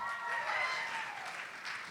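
Audience applause at a concert, a dense, steady wash of clapping that fills the short moment, fairly loud and close, without speech.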